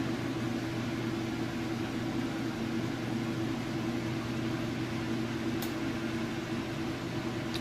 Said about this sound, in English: So we will let it finish up that spin cycle